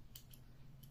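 Small scissors on a Victorinox Champ army knife snip three times in quick succession, close and crisp, over a low steady hum in the room.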